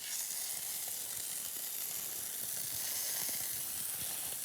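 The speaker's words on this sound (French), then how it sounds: "Et là, on commence à saisir les Saint-Jacques." Scallops searing in hot olive oil in a pan give off a steady, dense, close sizzle that holds unbroken and fairly loud throughout, with no voices.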